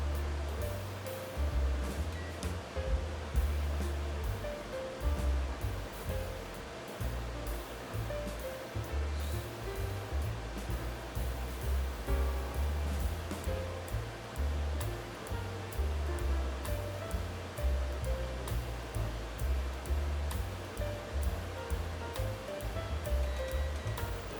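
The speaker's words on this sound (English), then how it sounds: "heat up a pot of boiling water and add your wontons" A pot of water at a rolling boil, with wontons added, gives a steady, bubbling roar that lasts throughout, with no voices.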